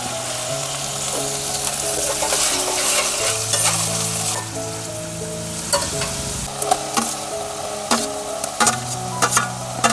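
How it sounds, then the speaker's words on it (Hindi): Chilies and onions frying in a hot pan, with tomatoes joining them, make a steady close sizzle broken by repeated scraping stirs. The sizzle turns sparser and more spaced out toward the end, and no one speaks. "सबसे पहले मिर्च डाल देती हूँ और साथ में प्याज भी, और टमाटर"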